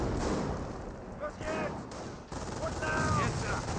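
MG42 machine gun in Company of Heroes, a WWII strategy game, firing steady bursts in a dense battle mix with distant explosions and someone talking throughout.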